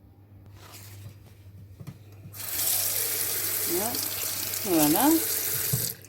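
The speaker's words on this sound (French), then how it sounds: "Donc on va tout d'abord mouiller le sopalin." Tap water runs from a faucet onto a paper towel folded in four, a steady hiss starting after a quiet moment and continuing loud to the end, with a single spoken word near the close.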